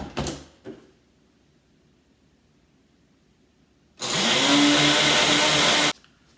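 A Ninja blender whirs loudly for about two seconds, mixing hand sanitizer with xanthan gum, its motor rising in pitch as it spins up, after a quiet stretch with a couple of brief clunks at the start.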